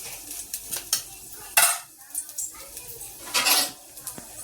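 Metal utensil scraping and clinking against a pan in irregular bursts as ground green chili thecha is stir-fried, with quieter gaps between strokes.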